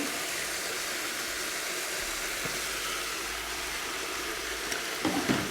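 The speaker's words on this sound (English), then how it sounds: "Our veggies have been frying, so they're ready" A steady sizzle of vegetables frying in a pan hisses throughout, with a few soft clinks and stirring sounds near the end.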